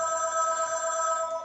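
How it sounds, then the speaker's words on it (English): A telephone rings steadily through the whole short moment, a bright sustained electronic bell tone with stable harmonics, heard alone without talk over it. "sorry there's the phone"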